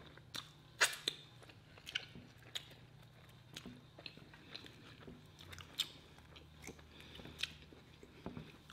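Close, wet chewing and biting on Somali food, including beef with onions and peppers, with sharp crunchy bites recurring irregularly over a quiet background and no talking.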